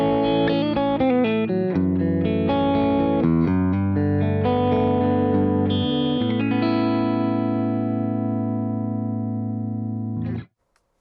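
Electric guitar through an Archetype Plini X compressor with the compression dial at maximum, playing a quick run of even, sustained clean notes that settles into a ringing chord and is cut off sharply near the end.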